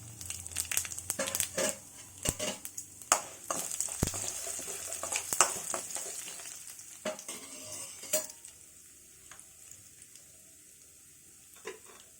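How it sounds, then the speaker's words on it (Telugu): Mustard seeds, cumin, urad dal and chana dal crackle and pop as they fry in hot oil, with scattered clinks of a spoon against the pan and no talking. "స్టవ్ వెలిగించి కొద్దిగా ఆయిల్ వేసి నాలుగు స్పూన్లు ఆయిల్ వేసానండి పోపు పెట్టుకోండి"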